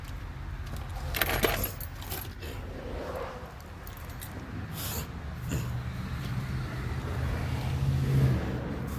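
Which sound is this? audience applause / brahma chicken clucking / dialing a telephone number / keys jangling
keys jangling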